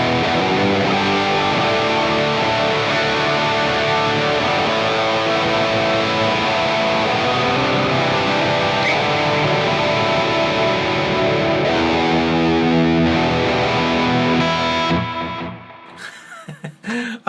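An electric guitar runs through a Hotone Ampero II multi-effects unit with reverb and delay, playing loud, sustained distorted chords that blend into a washy tail before fading out near the end.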